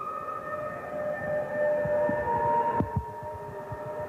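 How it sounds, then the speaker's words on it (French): Sirens of an arriving motorcade wail in steady sustained tones with a rising and falling pitch, moderately distant, over a low rumbling background crowd and engine hum. "Vous entendez les sirènes du cortège qui arrive"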